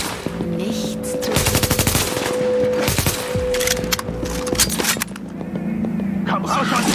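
Rapid machine gun bursts rattle through a firefight in the video game The Division, dense volleys repeating over several seconds amid other loud game sounds.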